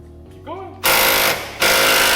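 Snap-on impact gun working on a 1989 Honda CRX coilover install, two loud sustained bursts of hammering clack after a short quiet stretch with a voice.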